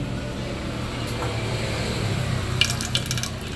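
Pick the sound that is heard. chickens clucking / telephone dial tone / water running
water running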